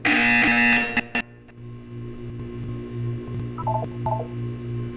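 Electronic buzzer tones in the video game Portal 2, a loud harsh burst at the start followed by a lower steady hum and a few short beeping blips, with no one talking.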